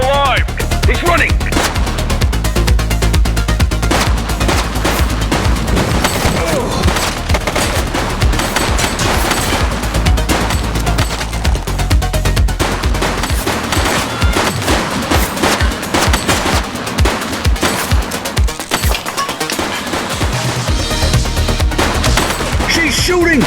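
Dense, sustained automatic gunfire during a police shootout in an action series, rapid loud bursts filling the whole stretch with barely a pause, brief voices buried underneath.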